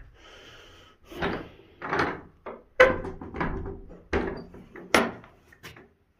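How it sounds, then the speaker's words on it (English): An old church door being handled, giving a run of wooden knocks, creaks and bumps in separate bursts, close and fairly loud, with no talking. "Scary door."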